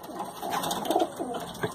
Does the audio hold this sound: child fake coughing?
no